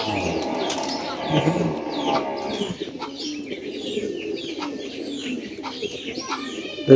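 Racing pigeons in a loft coo repeatedly up close, their soft rolling calls mixed with occasional wing flaps and light chirps.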